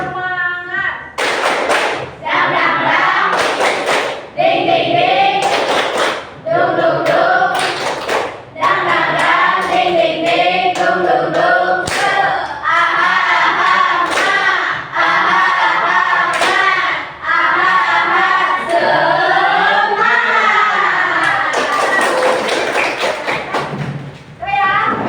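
A school class does a rhythmic group clapping icebreaker, sharp hand claps and thumps in repeated patterns alternating with children chanting together loudly, the pattern repeating with brief pauses throughout.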